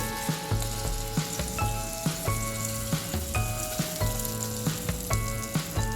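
Spiced tempering with ground pepper sizzles as it is poured into foxtail millet pongal, with steady frying crackle broken by repeated sharp clinks and scrapes of a spoon against the pot, close and fairly loud, no talk.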